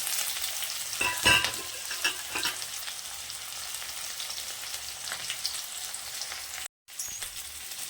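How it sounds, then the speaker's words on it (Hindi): Onion, ginger, cumin and chili sizzle steadily in a pan, a soft continuous crackle with a few louder spatters and stirring scrapes near the start. A brief dropout follows near the end. "हमारा प्याज फ्राई होने के बाद"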